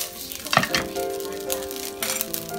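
Supermarket yakisoba noodles fry in a pan over medium heat, giving a steady close sizzle with a few louder crackles and a brief stirring clatter around the middle.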